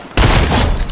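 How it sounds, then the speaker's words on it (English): A pistol being fired in Fortnite, heard as a single loud, close burst of shooting that starts abruptly and fills the brief moment. "This guy's trying to shoot me with a pistol."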